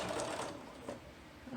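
A home sewing machine runs in short buzzing bursts while backstitching the seam of a zippered pencil bag, the motor whirring close and fairly quiet with brief pauses between stitches.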